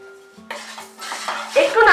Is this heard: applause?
no